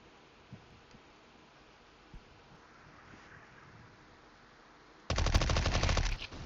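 An MP5 submachine gun fires a rapid, loud burst in Counter-Strike: Global Offensive, erupting suddenly after several seconds of faint ambient hiss and lasting about a second before cutting off.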